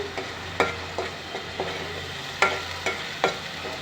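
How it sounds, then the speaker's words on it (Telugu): Masala paste frying and being stirred in hot oil in a pan for a sea crab curry, soft sizzling with a few sharp scrapes and clinks of a spoon at irregular intervals, close and moderate, no talking. "మసాలా పేస్ట్ ఎంత బాగా వేగితే అంత బాగుంటుందండి చూడండి వేగుతుంది కదా"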